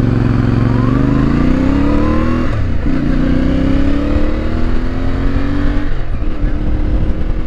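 A CFMOTO 450MT adventure motorcycle accelerates hard through several gears. Its engine note climbs in rising sweeps, with brief dips at each shift, and it sounds loud and close, with wind rushing past throughout.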